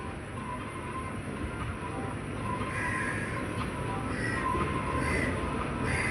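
An amusement park toy train at Nicco Park runs with a steady, even rumble heard from on board, continuous and moderately loud with no talking.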